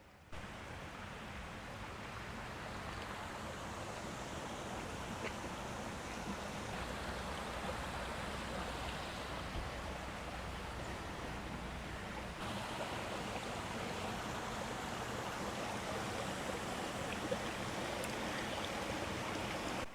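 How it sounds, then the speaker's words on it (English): Steady, gentle rush of flowing water from a small stream in a Japanese garden, constant and fairly soft with no voices. "Reminds me of a stream flowing out of the mountains"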